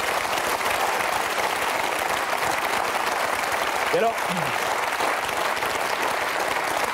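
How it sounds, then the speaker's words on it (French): Television studio audience applauding Gambat, a sustained, loud bed of dense clapping throughout, with a voice speaking briefly over it midway. "Je voudrais qu'on applaudisse Gambat."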